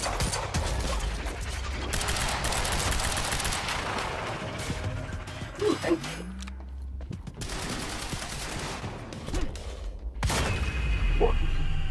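Gunfire in the video game Quantum Break rattles in dense, sustained bursts over a busy mix of game effects and ambience, with a few sharper impacts and a brief lull partway through.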